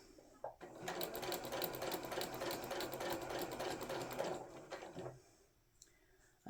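A sewing machine runs in a fast steady whir for about four seconds while stitching ribbon onto a Christmas stocking, then slows and stops, close and moderately loud.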